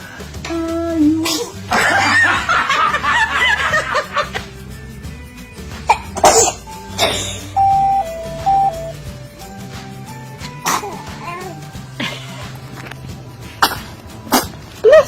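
A baby sneezes several times in short sharp bursts, scattered among adult voices talking and cooing nearby, with some background music-like tones.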